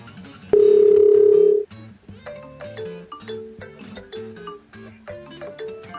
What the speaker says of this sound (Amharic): ያው ደወለ። አላነሳም።